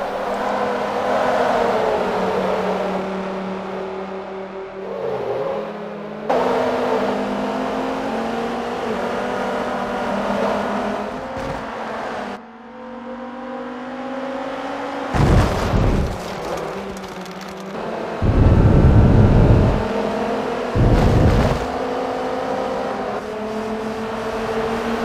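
Spec Viper race cars roar around a road course, engines revving hard and rising and falling in pitch as they pass, with several loud close passes near the end and no voices.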